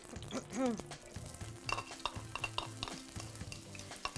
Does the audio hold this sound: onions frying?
yes